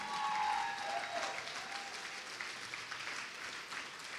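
A church congregation claps continuously during an altar call for those going forward to be saved or baptized, an even, dense patter from many hands throughout, with a faint sustained tone underneath.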